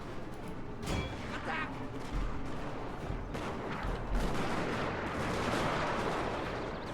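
Gunfire and artillery from the video game Total War: Shogun 2, Fall of the Samurai, with a dense, continuous battle rumble and repeated shots and booms throughout.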